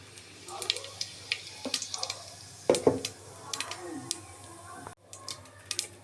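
Cumin seeds and a dried chilli sizzle in hot oil as tempering for a spiced eggplant dish, a soft crackling hiss broken by scattered sharp pops and ticks, with stirring clatter in places.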